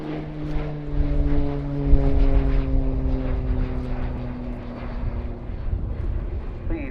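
A Pilatus PC-9M turboprop trainer of the Slovenian Air Force flies at an airshow, its propeller drone strong and steady, then slowly easing in pitch and fading a little as it passes.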